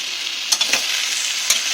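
Covered pan of cut vegetables for a fish curry with lau stems sizzling and bubbling as their released water boils, a steady hiss with a few sharp pops and spits, close and alone.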